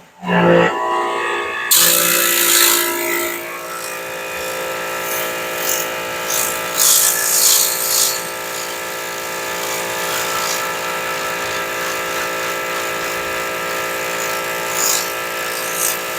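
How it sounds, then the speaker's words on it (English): A Goodway CTV-1501 cleaning machine switched to its rinsing pump blasts water through a turbo nozzle: a loud, steady hissing spray with a droning motor tone kicks in after a brief quieter start and runs on without letup. "Going to find our range and just rinse it using that turbo nozzle."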